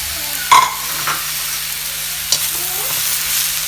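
String beans and smoky pork are stirred in a frying pan, with a loud steady sizzle, a couple of sharp scraping knocks of the spatula and occasional softer clatters, close and with no talking.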